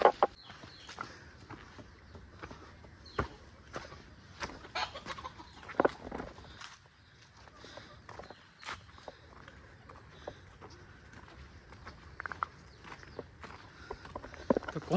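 Hens and roosters cluck around a farmyard while maize is scattered for them, with soft scratching and footstep-like rustles in a steady, moderately close ambience.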